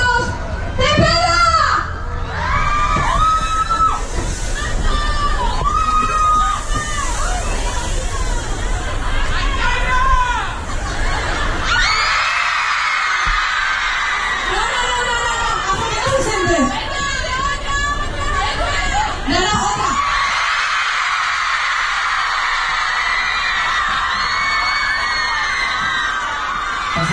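A large crowd of children at a live concert presentation in Ceuta screams and cheers loudly, with waves of shrill shouting, chatter and babble, a brief lull midway, then renewed cheering.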